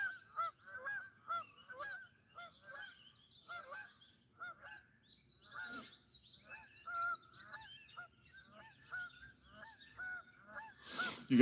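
Geese honk repeatedly in a noisy flock along a river during a catfishing outing, calls overlapping in rapid irregular bursts at moderate distance, with a louder burst near the end.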